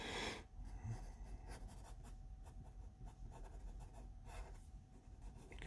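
Pencil sketching of a mustache on a self-portrait on paper, steady close scratchy strokes of graphite that continue quietly and evenly, with no talk over them.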